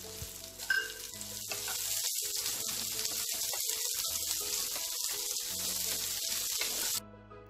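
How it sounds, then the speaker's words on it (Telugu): Chopped large onion drops into hot oil with crushed garlic and fries with a steady, moderate sizzle. Stirring clinks and scrapes sound now and then, and the frying stops abruptly at the end. "కొద్దిగా ఫ్రై చేసుకొని సన్నగా కట్ చేసి పెట్టుకున్న పెద్ద ఉల్లిపాయ వేస్తున్నాను"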